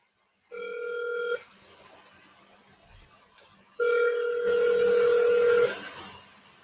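A phone call rings out with two long electronic ringback tones separated by a pause, loud and close, with faint background noise between them.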